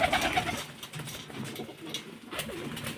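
Pigeons in a rooftop coop, kept for racing, coo softly and repeatedly, low throaty calls rising and falling over a quiet background murmur, with a brief brighter chirp near the start and no clear talking.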